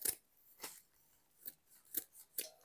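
Scissors cutting a rustic brown material for a fall craft project: four or five separate crisp snips at an uneven pace, close and fairly quiet.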